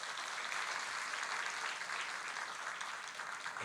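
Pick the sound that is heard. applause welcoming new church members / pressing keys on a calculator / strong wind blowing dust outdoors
applause welcoming new church members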